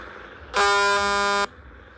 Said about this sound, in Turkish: Korna da çok iyi.